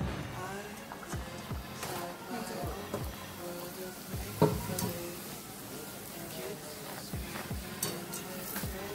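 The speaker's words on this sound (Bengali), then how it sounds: "এইভাবে আমি সবগুলো এবার ভেজে নেব। হ্যাঁ, লুচিগুলো এবার ভেজে নিলাম।" Luchi puris deep-frying in oil, a soft, continuous bubbling sizzle with an occasional sharper crackle, heard quietly with a faint voice murmuring in the background.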